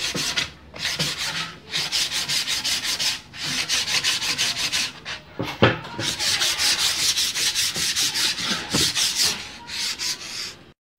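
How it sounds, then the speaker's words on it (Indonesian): Hand sanding a wood patch on Dutch teak board with coarse 60-grit sandpaper: brisk, rhythmic rasping back-and-forth strokes, close and steady, with a few brief pauses between bursts. "Kita amplas saja bagian dari tambalan ini agar halus."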